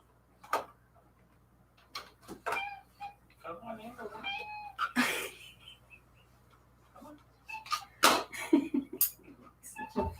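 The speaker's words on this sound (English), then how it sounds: "Such a funny cat." A cat meows several times at close range, short bright calls scattered among indoor talk and small handling noises in a home craft space.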